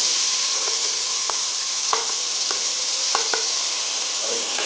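Chopped onions and a large green chilli frying in a pan, a steady bright sizzle with occasional clicks and scrapes from stirring.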